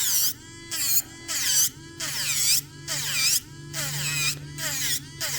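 A MelodySusie PM170F rechargeable 30000 RPM nail drill fitted with a carbide bit, whining in close, loud bursts that rise and fall in pitch, switching on and off about six times with short gaps between.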